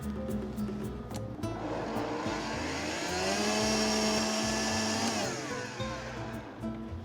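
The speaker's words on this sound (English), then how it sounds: "Just put that in, give it another quick blend here." A blender whirs through a mole sauce base with Mexican oregano, a steady motor roar whose pitch climbs as it runs, holds at full speed, then drops back down, with no talk over it.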